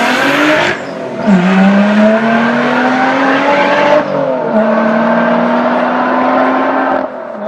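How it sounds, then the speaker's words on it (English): Supercharged V6 of a 2012 Lotus Exige S accelerating hard, a loud rising engine note climbing through gears with short breaks at each upshift, close and continuous with no talking. "When you push the gas for a throttle getting up to speed, the V6 just sounds incredibly good"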